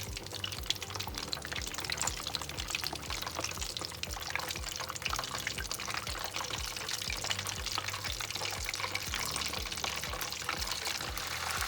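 Steady crackling sizzle of mashed potato meatballs frying in hot oil, a dense, continuous hiss with busy popping, close and fairly quiet.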